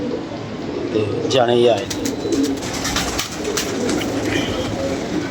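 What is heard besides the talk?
pigeons cooing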